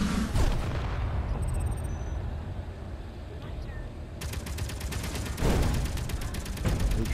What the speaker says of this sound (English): Who's shooting me? Who's shooting?